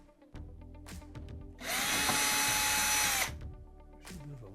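Power drill backing out quarter-inch screws below the controller panel of a GE upper oven: short clicks and bumps, then one loud whirring run of about two seconds, close up, with brief handling noises after.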